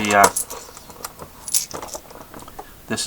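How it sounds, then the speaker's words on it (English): Small 1960s Shell gas station token coins being handled, giving a few brief metallic jingles and clinks close by, with a louder rattle at the start and another near the end. "A bunch of little token coins from the 1960s."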